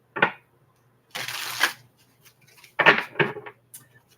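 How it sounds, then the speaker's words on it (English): A deck of playing cards is shuffled during a card reading, with several quick riffling bursts in short succession, close and fairly quiet, and no talking. "All right. Last shuffle."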